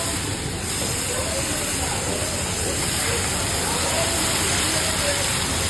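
Continuous loud sizzle and hiss of onion paste frying in hot oil with whole spices such as cumin, bay leaf and garam masala. The steady, even hiss runs unbroken throughout with nothing else on top.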